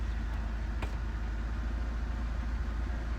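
A JDM car with a custom muffler idles in neutral, a steady low engine drone holding even throughout, close up and alone.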